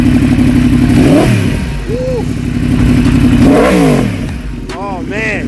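A 2016 motorcycle engine revs hard up close, rising and falling in several throttle blips over a steady loud idle, with a faint voice briefly underneath.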